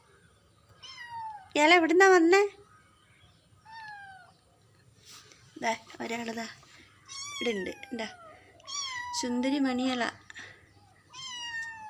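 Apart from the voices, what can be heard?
kittens meowing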